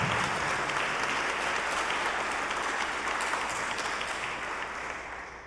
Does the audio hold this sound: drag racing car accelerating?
no